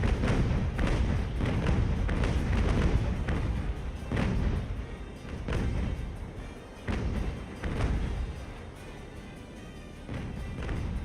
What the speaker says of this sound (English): Come on, those cannons are in range. Make this pay.